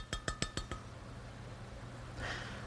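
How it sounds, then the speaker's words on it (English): Four quick glassy clinks ring out in a row, faint and close, as a pot of homemade face cream is set on top of a double boiler, followed by a soft rustle. "Now I'm putting this on the top of a double boiler."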